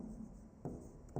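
Writing on a board during a biology lecture on digestion. Two brief, soft scratchy strokes stand out over a quiet hum, with no speech.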